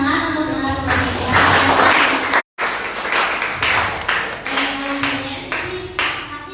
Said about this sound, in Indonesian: Beri tepuk tangan untuk narasumber kita.